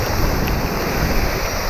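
Shirvane waterfall in Navi Mumbai roars as a steady, broadband rush of falling water, continuous and even throughout, with no voices.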